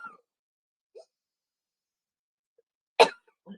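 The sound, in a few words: deliberate cough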